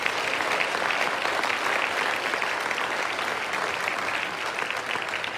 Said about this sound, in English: Give the Lord a mighty clap also.